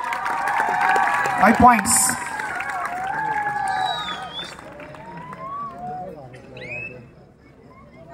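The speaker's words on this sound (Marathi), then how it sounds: "सुरेख प्रयत्न मित्रांनो, टाळ्या होऊन जाऊ द्या." Crowd clapping and cheering at an outdoor kabaddi match, rising in a burst over a loud announcer's voice, then fading as the commentary continues on its own.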